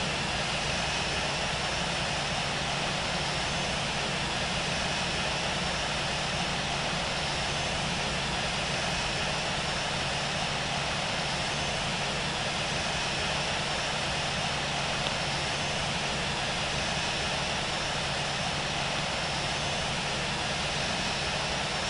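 An airliner taxis after landing in the Infinite Flight game, a steady loud engine drone holding without a break the whole time, with no talking over it.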